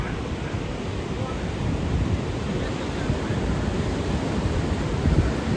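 Pacific Ocean surf at Torrey Pines State Beach, California, a steady broadband wash of breaking waves with some wind buffeting, swelling slightly toward the end.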